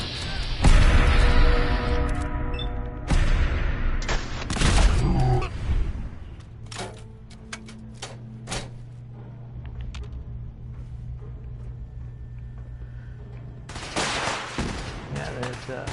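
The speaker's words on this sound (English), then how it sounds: "We're getting shot at." Gunfire in Fallout 4: sharp bursts of shots and booming blasts crowd the opening seconds, then scattered single cracks and pops ring out farther off over a low hum, with a fresh burst of loud shots near the end.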